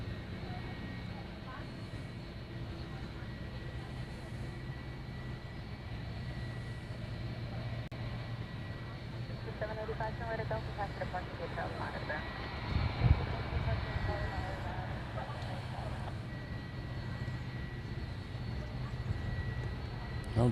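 FedEx aircraft at Honolulu airport rumble as a steady, distant engine drone throughout, swelling slightly midway, with faint background noise and no clear talk.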